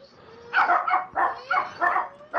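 A dog barks in a quick run of about five loud, close barks, with no one talking over them.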